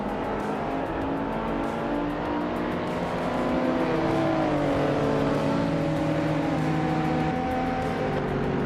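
Racing video game at a Korean Grand Prix with retro street cars, including a classic 1986 Alfa Romeo Spider QV and a Lamborghini, as engines drone and rev steadily together and rise slightly in pitch midway, loud and continuous with no talk.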